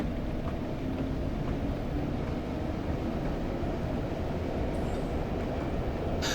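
A train in the Train Simulator 2016 game, on the Durham to Darlington route, accelerates down a 1 in 125 gradient, giving a dense, steady rumble with rail noise throughout and no voices.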